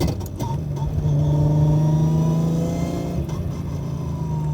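A 900 HP Nissan Skyline R34 GTR engine revs up from idle into a strong, steady droning note, holds it, then drops away. The sound is close and loud, with no speech over it.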